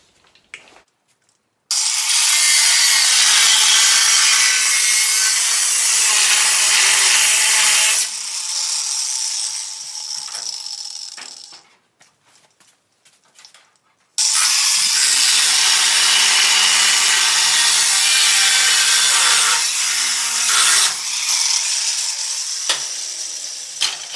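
A power tool cuts through steel square tubing on an LS1-swapped MGB GT, giving two long, loud, harsh grinding runs separated by a quieter stretch with small clatters.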